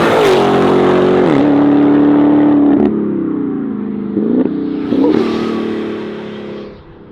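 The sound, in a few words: Dodge Challenger Redeye Jailbreak accelerating hard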